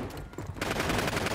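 A decoy grenade in Call of Duty Warzone mimicking gunfire, a sudden burst of rapid automatic-sounding shots that kicks in after a quieter moment and rattles on loud and close.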